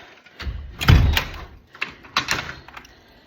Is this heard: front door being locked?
yes